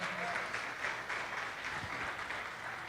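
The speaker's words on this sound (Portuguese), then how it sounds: "Aplaudir o Senhor pela vida do nosso pastor Oldson" A church congregation applauds a pastor's birthday with a dense, steady burst of clapping that holds at an even level throughout, close and continuous with no pauses.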